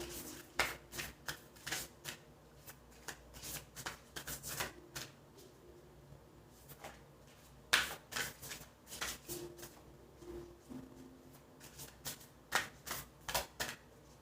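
Tarot or oracle cards are shuffled to draw a spell card, giving a long run of crisp riffling bursts and soft slaps in an irregular rhythm, close and fairly quiet, with no talking.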